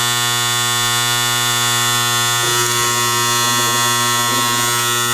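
A stalled Makita hypoid saw motor, held by its lock pin and driven at 30 volts, hums steadily and loudly with a bright electric buzz; the tone roughens and wavers partway through, with no talking.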